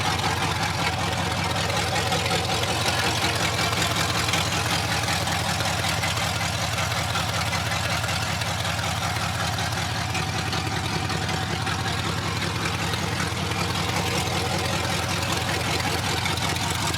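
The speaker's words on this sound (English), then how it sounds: "So the exhaust isn't done, that's just an open header." An old Chevrolet C10 Cheyenne truck idles through an open header with no exhaust fitted, giving a loud, steady, rumbling drone that stays constant throughout.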